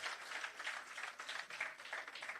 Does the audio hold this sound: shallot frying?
no